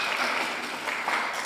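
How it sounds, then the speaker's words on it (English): Brief applause from a small crowd for an ambassador at a US Embassy COVID-19 donation event, a short burst of steady clapping with no speech over it. "Let's give the Ambassador a round of applause for that statement."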